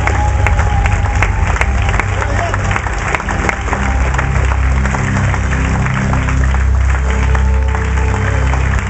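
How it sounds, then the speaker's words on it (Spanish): A church congregation gives sustained applause during a worship service, a loud, thick roar of clapping and crowd noise over a low rumbling musical bed, continuous throughout. "Dale 10 segundos de aplauso al Señor que trae el Espíritu Santo"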